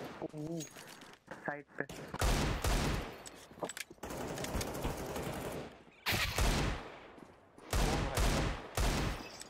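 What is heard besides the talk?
shotgun gunfire in video game CS:GO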